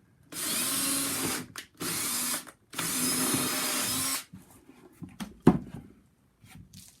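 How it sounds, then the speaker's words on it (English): Power drill whirs loudly in three long bursts drilling holes in the wooden top of a nest box, with brief stops between, then falls quiet apart from a few knocks and clunks. "I'm going to drill a couple holes in the top here."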